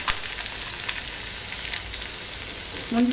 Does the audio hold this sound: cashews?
yes